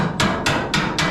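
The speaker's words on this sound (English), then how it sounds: "tapping as I go and focusing on each spot weld as you go through" Quick hammer taps hit the spot welds on the body of a 1969 Dodge Charger, four sharp, close metallic knocks in a steady rhythm with nothing else heard.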